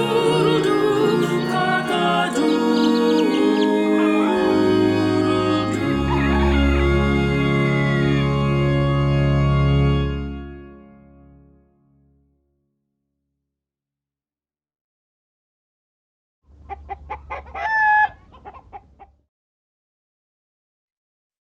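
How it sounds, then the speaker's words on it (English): A chorus of stuffed toy chickens clucks and crows in a dense, overlapping tangle for about ten seconds. It fades to silence, then one short squawking burst follows near the end. "a chorus of stuffed chickens"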